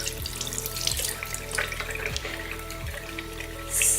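Steady running tap water with a sink-filling wash, punctuated by soft periodic splashes and squelches as makeup brushes are rinsed under the stream; no talking.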